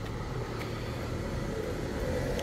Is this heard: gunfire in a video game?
no